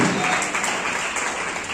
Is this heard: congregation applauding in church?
yes